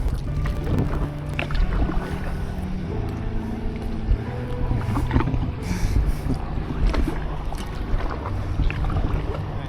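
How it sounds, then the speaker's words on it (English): A boat passes on the Suwannee River, its rumbling engine and wash churning steadily with some wind buffeting, no talking. "once this boat passes"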